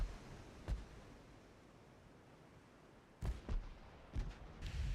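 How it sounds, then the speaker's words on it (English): Battleship main guns fire in Ultimate Admiral Dreadnoughts, a single booming shot followed by a cluster of several muffled, distant-sounding blasts in quick succession over a low background hiss. "It'd be nice if our main guns would actually hit something."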